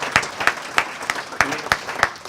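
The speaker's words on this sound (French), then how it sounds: "On peut les applaudir parce que c'est grâce à eux aussi." Sparse, separate claps ring out in a small room, about eight distinct hits spaced evenly, as an audience applauds the staff of a workplace wellness club.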